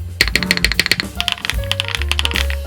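Typing on a Galaxy65 65% mechanical keyboard with a ball-catch mount and knob, a quick run of sharp, close clacks with deeper thocking spacebar presses, loud and dry with no talk.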